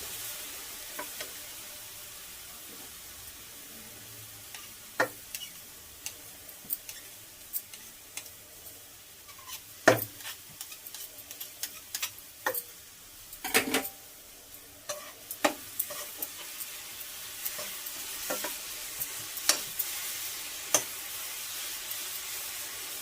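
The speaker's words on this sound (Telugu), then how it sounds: "కలుపుతూ ఉండాలి. ఎందుకంటే కొబ్బరి అడుగును పట్టేసి మాడకుండా ఉండాలంటే" Grated coconut and jaggery being stirred in a pan, giving a soft continuous sizzle with scattered scraping ticks and clicks from the spoon, steady and close, with no talking.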